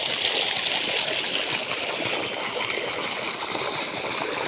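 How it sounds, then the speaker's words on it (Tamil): Irrigation water flows steadily into a paddy field outdoors, a constant loud rushing wash with no pauses and no voices. "அங்கே பாரு, வயலுக்குலாம் தண்ணி இப்போ தான் பாயுது."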